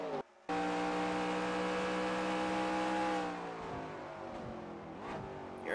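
Race car engine in a racing video game at Lime Rock dirt track, revving high and loud, then dropping pitch as it downshifts into second gear, with harmonics falling and a brief rev near the end.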